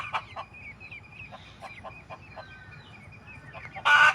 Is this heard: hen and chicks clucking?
yes